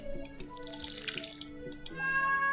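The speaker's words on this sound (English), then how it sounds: "Go ahead and water the kitty bowl." In the Stardew Valley video game, a watering can pours water into a kitty bowl: a short run of soft game splashes and drips with a bright chime partway through, close and clear, with no talk.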